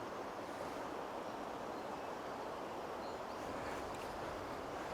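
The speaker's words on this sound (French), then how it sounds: "Le vent est en train de bien monter" Steady wind roars across an open riverbank during trout lure fishing, a broad continuous rush with buffeting gusts against the microphone that thicken toward the end; no voices.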